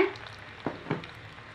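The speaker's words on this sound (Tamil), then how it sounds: "இந்த மாதிரி சின்ன சின்ன உருண்டையாக எடுத்து எண்ணெய் காஞ்சிச்சு அதில் வச்சுருங்க" Small chicken kola balls fry in hot oil with a soft, steady sizzle and a couple of brief bubbling pops, heard close by.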